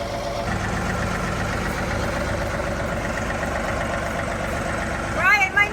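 A John Deere tractor engine idles in a steady, low, continuous rumble at close range, with a brief bump in level near the end.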